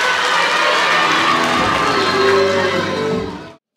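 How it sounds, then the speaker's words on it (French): A crowd of schoolchildren at a school ceremony applauds and cheers loudly in a sustained roar of claps and shouts that stops abruptly near the end. "Applaudissez pour vous"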